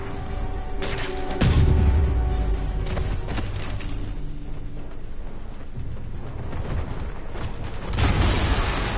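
Explosion in the Spider-Man PS4 video game: deep booming rumbles swell and fade among mechanical clatter, with a second heavy burst near the end.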